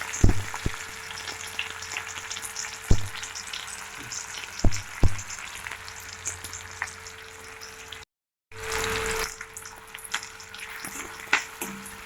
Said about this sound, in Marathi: कांदा चांगला लाल व्हायला द्यायचा